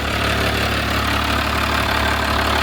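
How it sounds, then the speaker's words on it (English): A heavy tractor engine idles loud and steady on a dyno, not at 1300 RPM, a constant rumbling drone with a faint knocking pulse throughout. "That motor's not idling at 1300 RPM either."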